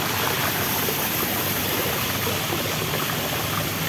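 A waterfall in the grounds of Wat Umong temple in Chiang Mai pours in a steady, dense rush of falling water, close and constant with no voices over it.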